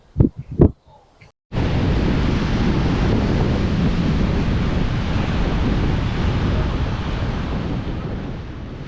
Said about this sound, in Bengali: সামনে হচ্ছে এই যে সমুদ্র দেখতে পাচ্ছেন, সেই সমুদ্র